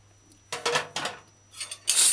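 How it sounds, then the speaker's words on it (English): A metal lid set onto a saucepan of simmering brown stew liver, giving several short clattering clinks in quick succession, close and fairly loud, ending in a bright metallic clank, with no talk. "Cover saucepan until serving."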